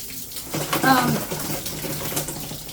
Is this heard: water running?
yes